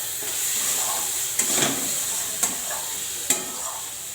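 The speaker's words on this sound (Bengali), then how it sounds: "এবার এই মশলাটা আমি সুন্দর করে ভাজবো।" Masala frying in a pan for katla fish curry gives a steady, loud hiss and sizzle, with a few sharp clinks of stirring against the pan.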